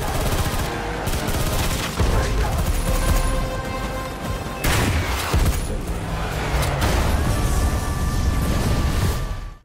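Gunfire in an action film scene aimed at a car about to hit someone, loud rapid bursts of shots mixed with crashes and cinematic effects, dense and continuous.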